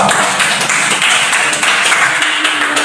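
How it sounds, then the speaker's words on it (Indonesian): A group claps continuously, a dense patter of hands throughout, fairly loud and close. "berikan tepuk tangan untuk kelompok 2"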